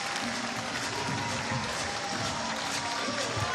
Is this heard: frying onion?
no